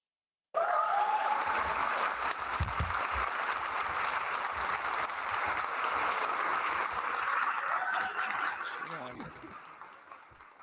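An audience claps steadily after a university lecture, applause rising suddenly and holding as a dense, even patter before fading out toward the end.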